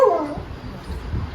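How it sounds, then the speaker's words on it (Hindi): An excited dog barks and whimpers in a quick burst of yips at the start, close by, followed by lower rumbling noise with faint voices. "इधर से एक्साइटेड हुआ हुआ भौंक रहा है"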